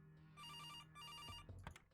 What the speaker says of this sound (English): Somebody answer the phone.